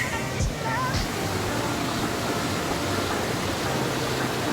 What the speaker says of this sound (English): raging waterfall.